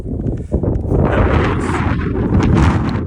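Strong wind gusts batter the microphone on a mountain trail beside the Devil's Staircase on the West Highland Way, a loud continuous roar and buffeting with no voices.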